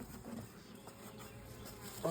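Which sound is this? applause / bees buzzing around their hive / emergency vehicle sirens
bees buzzing around their hive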